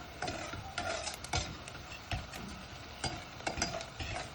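Onions sautéing in a pan for a Turkish stew, with a steady soft sizzle broken by repeated clinks and scrapes of a utensil stirring against the pan, close and moderately quiet, no talking.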